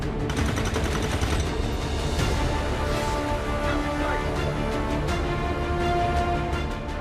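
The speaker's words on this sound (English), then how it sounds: "Shot failed to connect." Gunfire in the XCOM 2 strategy video game, a dense burst of rapid shots and impacts over a rumbling game soundtrack, loud and continuous with no voices.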